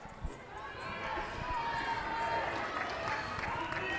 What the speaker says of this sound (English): you can hear the coaches and the parents out in the audience cheering